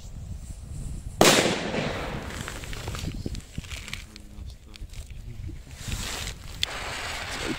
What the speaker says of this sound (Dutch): Dan eindigen we natuurlijk met de Cobra 6 mat.